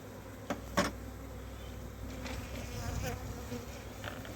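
Honey bees buzz softly around brood frames in a hive being prepared for winter, a low steady hum with a few louder individual bees passing near.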